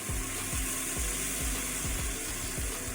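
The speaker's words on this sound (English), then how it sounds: "everyone knows how to fry up pancakes, right?" Keto pancake batter sizzling in a non-stick crepe pan, a steady close frying hiss with faint regular ticking underneath, no voices.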